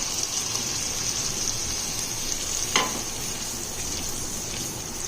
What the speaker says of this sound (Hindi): इस प्याज का पानी जो है वो ड्राई करना है और इसे अच्छे से भूनना है हाई फ्लेम पर